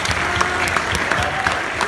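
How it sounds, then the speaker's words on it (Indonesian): Lively applause from a large crowd, continuous clapping with a few louder claps standing out, faint voices underneath. "saya ingin minta terlebih dahulu tepuk tangan yang meriah dari kita semua"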